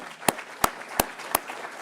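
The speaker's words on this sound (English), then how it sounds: "give them a round of applause" Audience at a University of Michigan event welcoming head basketball coach Dusty May gives a round of applause, heard as four sharp, evenly spaced claps or bursts standing out over a soft, steady room murmur.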